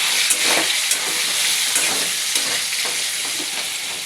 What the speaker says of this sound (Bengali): তো আলুটা একটু ভাজা হবে,